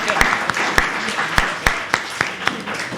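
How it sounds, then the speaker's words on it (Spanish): Congregation at a Sunday church service applauding together, a dense patter of many hands with a few sharper claps standing out, close and steady for a few seconds. "por favor, démosle un aplauso."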